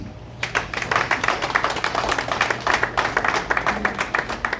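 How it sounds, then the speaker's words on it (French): An audience at a political party's general assembly meeting in New York breaks into steady, dense applause. The clapping starts abruptly and carries on evenly throughout, with a hint of voices underneath. "Et pour ceux qui sont présents, applaudissez-vous."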